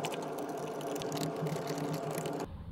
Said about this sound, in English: I use a 7/32 to remove the two upper column cover screws